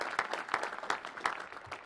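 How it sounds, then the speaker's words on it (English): Scattered applause from a seated audience at a National Space Council meeting, a few distinct claps standing out over a softer, thinner patter that continues steadily for a couple of seconds. "You can give the Secretary of Commerce a round of applause."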